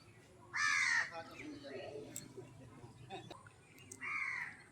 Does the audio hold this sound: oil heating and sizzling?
no